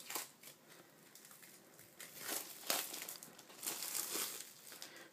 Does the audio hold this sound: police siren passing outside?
no